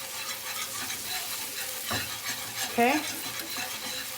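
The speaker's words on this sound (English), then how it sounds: "We're gonna take a whisk. And we're gonna get all those bits at the bottom off." A whisk scrapes browned bits from the bottom of a pan into a simmering sauce for seared scallops, producing a soft sizzle with a few scraping strokes and a brief spoken word.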